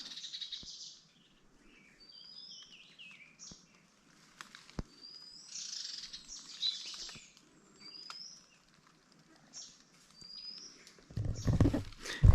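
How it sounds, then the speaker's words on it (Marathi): Assorted wild birds call in a Sahyadri hillside forest on the Ghangad trek, with scattered short chirps and whistled notes rising and falling, fairly distant and moderate in volume, and a louder rustling burst near the end. "प्रचंड असे पक्षी दिसले आम्हाला वेगवेगळ्या प्रकारचे. त्यांची आवडती जागा वाटते, त्यांचे कॉल्स ऐका"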